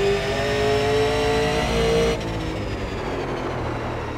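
A Super Late Model race car engine drones loud and steady at Thompson in iRacing, a sustained high-revving tone that shifts downward midway as the car lifts into a corner.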